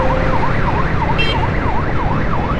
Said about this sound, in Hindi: बाइक के अंदर जो है एम्बुलेंस का सायरन लगाया हुआ है।